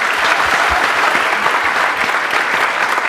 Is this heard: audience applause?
yes